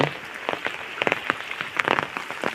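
Heavy rain pours steadily over a village lane and bean field, a dense hiss broken by irregular sharp splatters and drips close by, with no voices.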